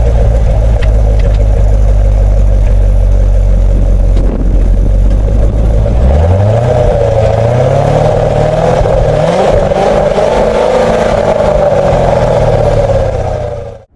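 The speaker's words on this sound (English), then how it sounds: "We'll see what we can do here for a little speed up the entry ramp" A 2014 Corvette with a 460-horsepower engine accelerates up a freeway entry ramp, heard from inside the car. The engine roars loud and steady, its pitch climbing through gear changes over about fourteen seconds with no talk.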